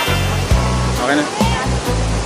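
A waterfall in Bataraza, Palawan roars as a loud, steady wash of water, broken by a few brief thumps and overlapping voices.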